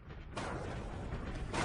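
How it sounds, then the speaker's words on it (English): Far-off explosion heard as a muffled low boom and sustained rumble, fairly faint, with no speech over it. "You hear that off in the distance? That explosion?"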